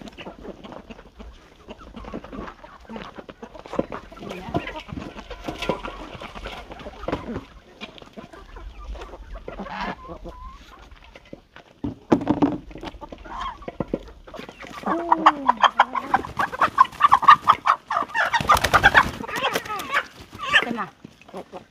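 Chickens, including laying hens, cluck and squawk steadily at close range while being fed grain, with a dog barking at times and a person calling to them throughout.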